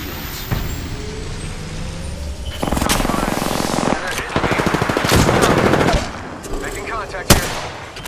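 Automatic weapon fire in the shooter Apex Legends rattles out in loud, sustained bursts with sharp single shots and impacts, amid dense battle noise.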